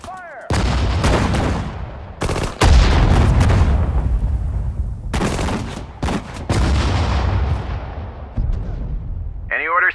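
Artillery fires in the World War II real-time strategy game Sudden Strike 4 during the Battle of Hürtgen Forest, with several heavy booming shots and rolling, echoing blasts that layer over one another, and short unit voice responses at the edges.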